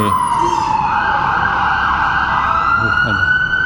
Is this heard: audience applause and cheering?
no